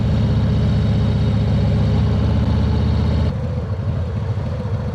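A Harley-Davidson motorcycle engine thumps steadily while riding, a loud, close, low-pitched rhythmic rumble that drops to a rougher, quieter note partway through as the throttle eases.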